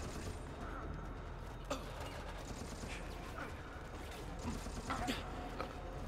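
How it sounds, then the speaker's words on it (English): Enemy gunfire in the video game Resident Evil: Operation Raccoon City, scattered sharp shots and mechanical clacks over a steady low game rumble, fairly quiet and without talking. "Okay, now they're shooting at me."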